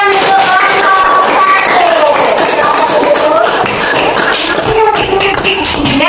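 A classroom of students clapping for a student group, loud and close with busy overlapping claps, mixed with children's voices and shuffling throughout.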